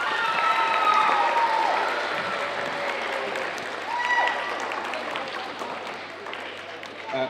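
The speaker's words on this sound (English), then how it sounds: "So go ahead and give yourself a round of applause." Seventh grade students at a spring awards ceremony clap for themselves, a steady crowd applause that carries throughout, with a few voices and faint tones over it.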